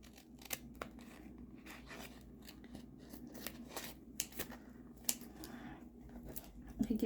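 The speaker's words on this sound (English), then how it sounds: "So cut off the washi tape strips around the edges" Scissors snip washi tape strips repeatedly at close range, short crisp cuts with small rustles between them, fairly quiet overall.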